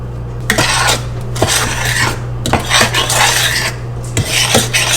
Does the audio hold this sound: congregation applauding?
no